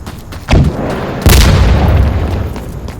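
Gunfire in the shooter game Insurgency Sandstorm: two sharp, heavy booming shots about a second apart, each trailing into a long rumbling echo, loud and close.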